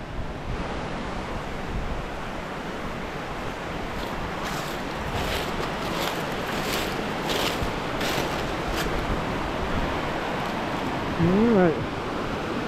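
Steady broadband rush of the Paulskill River flowing near old weirs, heard close and continuous with some wind buffeting on the microphone and a brief voice near the end.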